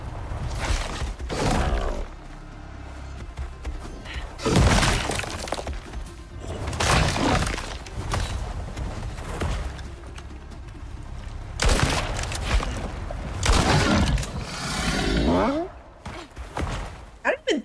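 A grenade thrown at a Quarrite spawner in the survival game Icarus bursts in several sharp, shattering blasts, loud and close, separated by quieter gaps as gunfire and impacts keep going throughout.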